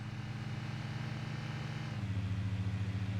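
A car engine in the video game Midtown Madness 2 drones steadily at high revs, then shifts to a slightly different pitch partway through, loud and continuous with no other sounds.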